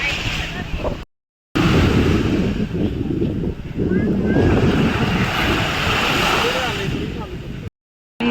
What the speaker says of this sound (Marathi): शांत पाणी समुद्राचं असं उसळतं पाणी नको आहे